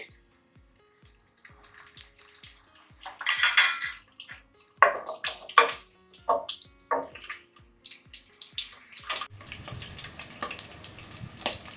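Cut eggs frying in masala in a pan for a potato egg curry: a spoon clatters and scrapes against the metal in uneven bursts, a steady faint low ticking runs throughout, and a soft sizzle swells toward the end.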